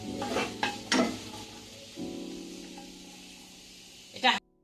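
Dried red chili, bay leaf and whole cumin fry in hot oil, a light sizzle with a few quick stirring scrapes at the start, then a steady low crackle and a final sharp scrape before it cuts off.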